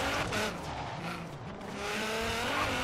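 A raspy racing engine of a slammed Nissan 240SX drift car in Forza Horizon 3 roars continuously at high revs, with its pitch shifting as it accelerates, alongside faint tire noise.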